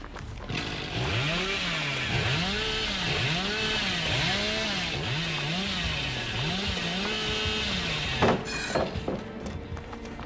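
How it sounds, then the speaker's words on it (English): The killer's chainsaw in the Dead by Daylight mobile game revs in a steady rising-and-falling cycle, loud and continuous for about eight seconds before cutting off abruptly, followed by softer game noises. "you can hear Billy with the chainsaw"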